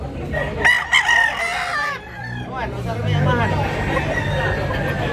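Many roosters crow and cluck at a busy rooster market in Tabunok, Cebu, near and far calls overlapping under a murmur of crowd noise while someone talks throughout.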